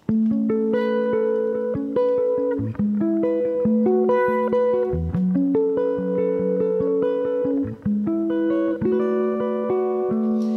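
A guitar plays the next section of a song, ringing chords and picked notes in a steady rhythm, close and clear. It plays for about ten seconds with no voice.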